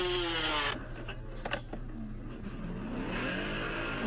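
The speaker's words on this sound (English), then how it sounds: "Why would you guys rev your engine when you just crashed?" A dirt bike engine revs after a crash, with a strong buzzing rev at the start that drops away, a few sharp clatters, then the motor climbing again toward the end, heard at moderate distance without speech.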